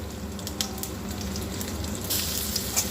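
Garlic frying in oil in a pan after chillies and five-spice tempering, a steady close sizzle with a few sharp pops and crackles, no voices.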